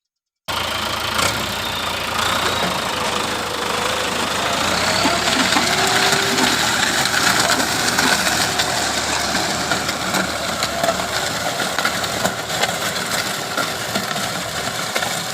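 A tractor engine idles steadily nearby, a continuous rumbling chug with a faint whine, running on without pause and with no voices.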